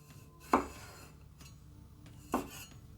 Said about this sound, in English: let's cut the tomatoes and this should maybe bring out the difference a bit more